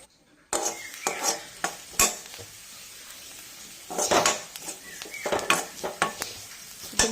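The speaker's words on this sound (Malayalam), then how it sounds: "ആവശ്യമായ മല്ലിപ്പൊടി ഒന്നര ടീസ്പൂണ് ഇവയിൽ ഇവയെല്ലാം ഇട്ട് നന്നായി വഴറ്റി" Spices and coriander powder being sautéed in a pan, with intermittent spoon scrapes and clinks against the metal over a low, steady sizzle, fairly close and with no voices.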